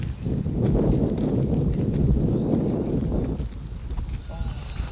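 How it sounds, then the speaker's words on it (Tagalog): Wind buffets the microphone outdoors in Songdo Central Park with a low, rumbling roar that stays strong throughout. "Sarap ng hangin. Mahangin siya"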